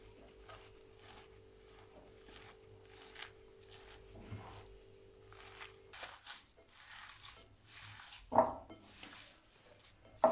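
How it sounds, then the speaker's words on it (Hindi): Mutton mince being mixed by hand with spices, mint and coriander, soft squelchy patting and stirring strokes in a quiet kitchen, with a couple of louder knocks near the end. "मसालों को हम अच्छी तरह कीमे में अब मिक्स करेंगे।"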